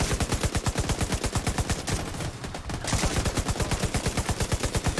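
Rapid automatic gunfire from Tom Clancy's The Division 2, a steady run of loud close bursts that breaks off for about a second, then resumes at the same fast rhythm.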